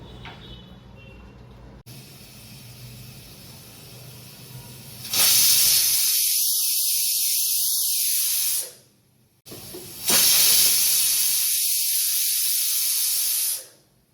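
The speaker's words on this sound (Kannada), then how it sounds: "ಲಿಡ್ಡಿನ ಕ್ಲೋಸ್ ಮಾಡಿ ಕುಕ್ಕರ್ 2 ವಿಸಿಲ್ ಹಾಕಬೇಕು" Pressure cooker with mint rice inside, hissing loudly with jets of steam in two long whistling bursts, separated by a brief quiet pause, close and strong.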